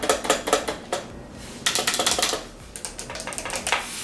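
Someone types on a soft pink computer keyboard with fairly quiet keys, giving quick irregular bursts of clicky keystrokes with short pauses in between, close to the listener and with no speech.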